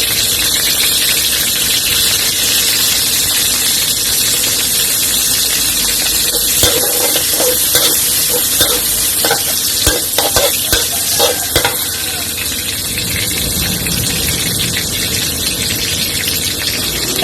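Loud, continuous sizzling of chicken frying in a hot wok, with scraping stirring strokes and occasional squeals, no voices.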